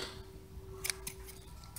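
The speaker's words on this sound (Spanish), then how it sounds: "Cortamos el hilo." Scissors snip through crochet yarn after a finishing chain on an amigurumi elephant body: a couple of quick, quiet cuts near the middle over a low steady hum.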